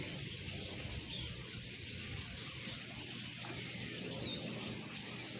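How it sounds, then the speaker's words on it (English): Dense chorus of many birds calling and chirping at once from bushes and branches, a continuous noisy wash of overlapping tweets with no voices. "So noisy. It's kind of music, birds music."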